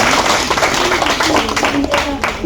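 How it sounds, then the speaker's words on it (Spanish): An audience at a mock trial applauds, with dense, moderately loud clapping under a murmur of voices that gradually thins out over a couple of seconds. "Un aplauso, por favor."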